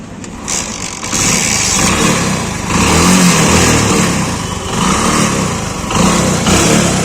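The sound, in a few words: DC motorcycle engine starting and revving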